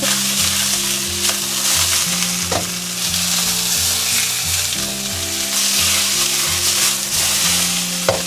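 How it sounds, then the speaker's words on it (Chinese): Steady loud sizzling of fish pieces frying in hot oil over high heat, with occasional clinks and scrapes from a utensil in the pan. "等油热了过后，我们再把鱼块放下去，然后全程保持大火煎。"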